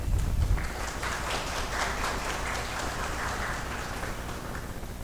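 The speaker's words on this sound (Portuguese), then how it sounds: "Vamos recebê-los com efusivas salvas de palmas." An audience at a public hearing in a municipal chamber claps steadily to welcome a capoeira group, a dense, even patter of many hands at moderate distance with no voices.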